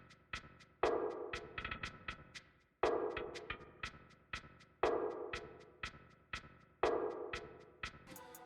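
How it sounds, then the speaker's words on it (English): A programmed shaker loop from a percussion production, with accented shaker hits on every other beat and softer, lower-velocity shakes between them, cycling in a clean, even rhythm with spring reverb and no talking. "I added this kind of like shaker loop where I put the shakers like hitting every other shaker"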